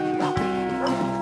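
Cartoon dogs in a dog pound let out short barks and yips in quick bursts, set against a steady tonal background.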